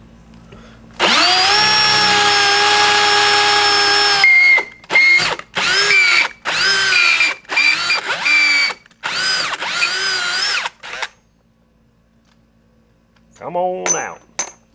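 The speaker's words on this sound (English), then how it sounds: "then we got to drill all of our holes going through each plate" A power drill bores holes through metal plates for solar panel mounts, starting with one long, loud whine and then several short, close bursts, followed by a brief voice at the end.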